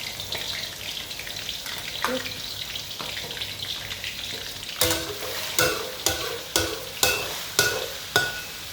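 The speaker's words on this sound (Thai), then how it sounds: "นี่ค่ะใส่หมูลงไปเลยค่ะ" Pork stir-fries in hot oil in a wok for a Thai stir-fried vegetable dish. A loud, continuous sizzle runs throughout, and in the second half a spatula scrapes and clanks against the pan in a regular rhythm.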